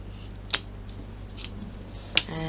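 Scissors snip through the leftover end of a zip during a felt clutch-bag sewing project, giving three sharp, close clicks spaced across a quiet room.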